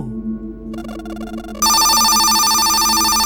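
In a horror video game, a quieter tonal chime gives way to a loud, sustained electronic telephone ring that continues steadily to the end, over a low background hum.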